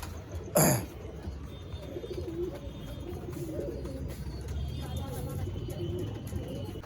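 Pigeons coo softly and continuously in a loft as they are put inside, a low steady murmur of several birds, with one brief louder burst near the start.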